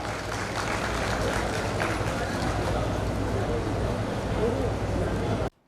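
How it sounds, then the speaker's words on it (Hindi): An audience at a district administration meeting with volunteer organisations breaks into dense, steady applause that fills the room, then stops abruptly at the end. "एक बार आपकी तरफ से भी तालियों से स्वागत कीजिए।"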